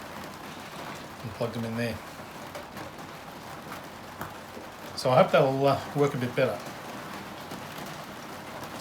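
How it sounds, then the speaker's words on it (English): Rain falls steadily on a dome outdoors, a constant soft patter spread evenly throughout, while someone talks briefly over it. "It's quite nice out here in the dome with the rain falling"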